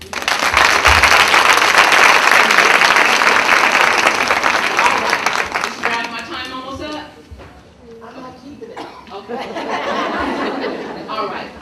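Hearty applause from an audience at an early childhood conference, loud and sustained at first, then fading as laughter and chatter rise, before a smaller second round of clapping.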